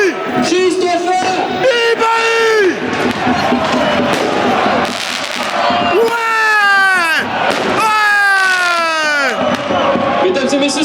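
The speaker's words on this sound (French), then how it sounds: "Mesdames et messieurs, s'il vous plaît, veuillez cesser les feux d'artifice." Fireworks go off at a football stadium in Rouen amid a loud, roaring crowd, with booming and crackling bursts mixed into continuous chanting and cheering, and a PA announcer speaking over it.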